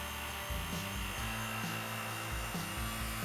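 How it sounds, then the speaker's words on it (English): A vacuum pump drones steadily while wood blanks are stabilized, its continuous hum and rumble carrying a periodic low pulsing throughout, fairly quiet and with no voices. "let the pump run for a few hours"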